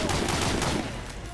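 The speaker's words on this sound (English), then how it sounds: "I'm not sure if you're shooting at him or shooting at the tank." Rapid gunfire crackles in the Medal of Honor: Allied Assault Breakthrough video game, a dense, loud burst of shots lasting just over a second before easing off.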